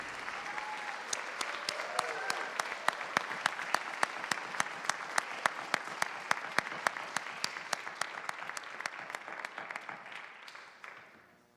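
Applause for Legacy Award winner Nancy Tingey at the Canyons School District Apex Awards ceremony: a crowd's sustained clapping with sharp, rhythmic unison claps punching through, building and then tapering off at the end.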